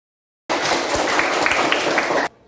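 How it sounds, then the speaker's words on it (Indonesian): Classroom applause for a student discussion group, a burst of many hands clapping together that starts abruptly after silence, holds steady and loud for about two seconds, then cuts off. "Baik, tepuk tangan pada kelompok."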